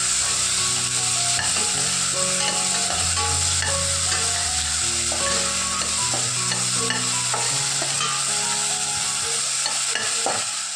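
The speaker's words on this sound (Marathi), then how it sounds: "टोमॅटो हे छान भाजून घ्यायचं तेलामध्ये" Chopped tomato frying in hot oil for Maharashtrian pavta rice, a steady close sizzle running throughout with clinks and scrapes of a spoon stirring the pan.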